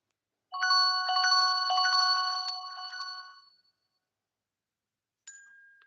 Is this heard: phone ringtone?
yes